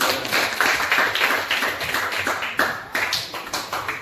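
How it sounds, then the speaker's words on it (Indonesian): A classroom of students applauds together during an Islamic studies lesson, a steady patter of many hands clapping at close range with a few louder bursts, no talking. "berikan aplaus"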